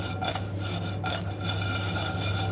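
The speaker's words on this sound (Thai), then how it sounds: "นี่เราก็คั่วไปเลยค่ะคั่วให้เขาเข้ากัน" Crispy pork belly stir-roasted with chili and salt in a pan, a continuous close scraping and rasping of a spatula against the pan over a low steady hum.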